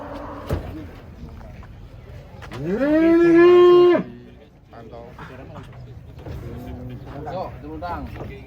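A large contest cow being unloaded from a truck in Boyolali lets out one long, loud, drawn-out moo close by, amid vehicle and rattling noises, while people talk before and after.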